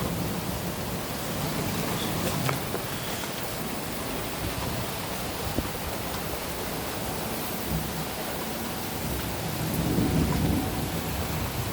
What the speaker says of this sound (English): Thunder is beginning to intensify.